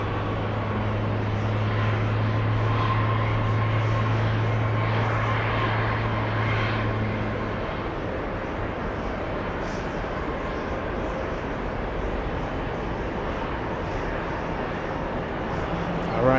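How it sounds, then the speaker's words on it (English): A Swiss airliner's jet engines roar steadily from a distance as it takes off, a broad sustained rumble that eases slightly partway through while a person talks over it. "we have Swiss about to take off"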